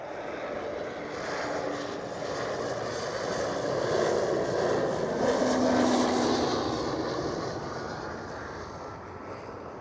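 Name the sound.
Eastern Airways Embraer E190 aircraft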